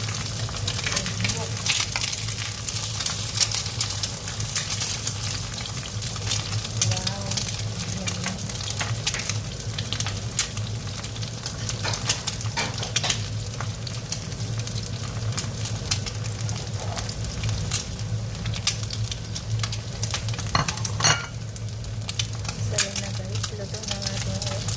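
Eggs fry in a hot pan with a continuous close sizzle and crackle, steady throughout with occasional sharper pops and a low hum beneath.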